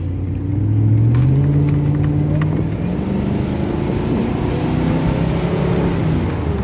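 A Mustang's engine hums and rises steadily as the car accelerates, a continuous low rumbling drone heard from inside or close by, with no talking.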